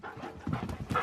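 Excited huskies panting close by, quick rhythmic huffing breaths with light shuffling, several dogs overlapping in a brief burst.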